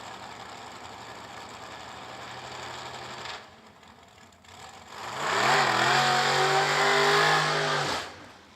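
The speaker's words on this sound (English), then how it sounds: "Next pair, doing the burnouts." Old-school drag race cars at a bracket race rev hard as they do burnouts, an idle engine growl drops off, then a loud rising roar swells, holds for a few seconds and cuts out, heard at moderate distance.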